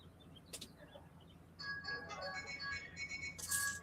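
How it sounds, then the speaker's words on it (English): A husband's mobile phone rings indoors, a melodic ringtone starting about halfway through and repeating at moderate loudness, after a quieter stretch with faint background noise and a couple of brief sharp sounds. "There's my husband's phone."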